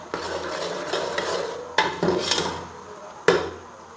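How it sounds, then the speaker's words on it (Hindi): Ginger garlic paste is stirred and fried in a pan while cooking a spicy turnip and pea dish, with scraping utensil strokes and sharp clinks against the pan over a low sizzle. "अब इसमें मैं डालूँगी ये अदरक लहसुन का पेस्ट। इसको भी मैं थोड़ा सा भून लूँ"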